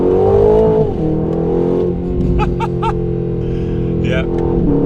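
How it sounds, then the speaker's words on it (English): A 2025 Aston Martin Vantage engine rumbles and revs in track mode with a throaty exhaust note, pitch dropping then holding, with a few sharp pops as a person talks over it. "track mode I think also gets a bit more naughty on the exhaust as well"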